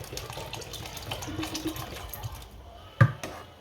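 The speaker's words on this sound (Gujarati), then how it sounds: "આમાં થોડુંક પાણી નાખવું પડે એમ છે એટલે થોડુંક નાખી દઈએ" A brief splash of water poured into a pot of cooking rice, a steady watery wash ending in a sharp clunk near the end.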